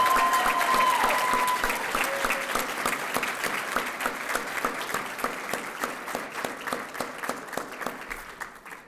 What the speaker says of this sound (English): Can we give a big round of applause and congratulations to Rory?